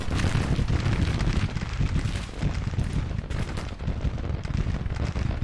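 Dense, continuous battle din from Civil War artillery, including Napoleon cannons, and massed rifle fire on the Petersburg battlefield, with rumbling booms and crackling volleys blending into a steady, loud roar throughout.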